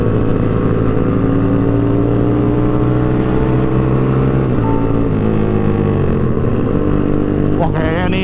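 Motorcycles ride on a mountain road near Kopeng, including a Yamaha R15 V3, giving a loud, close, continuous engine roar that climbs into a sharp rising rev near the end, with voices partly buried beneath.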